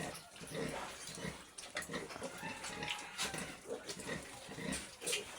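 A mother sow grunts and snuffles at close range in her pen, low rough grunts mixed with wet splashing and shuffling noise, a faint voice in the background.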